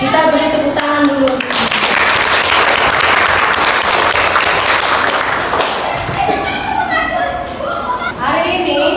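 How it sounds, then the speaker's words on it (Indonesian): A classroom of students breaks into loud, busy applause, with a teacher's voice before it and children's voices chattering as the clapping fades. "Kita beri tepuk tangan dulu."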